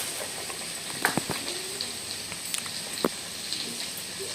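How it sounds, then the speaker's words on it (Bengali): Eggplant fritters coated in gram flour batter frying in hot oil, a steady soft sizzle with scattered sharp pops and crackles rising out of it now and then. "এবার আমরা এক এক করে কিন্তু সব বেগুনিগুলোই কিন্তু ভেজে নেব।"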